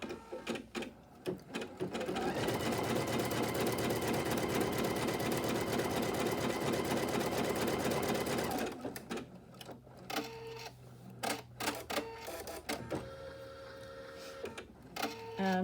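An embroidery-style sewing machine bastes a quilt block in place, stitching steadily and loudly for several seconds before stopping, followed by intermittent clicks and short mechanical whirs.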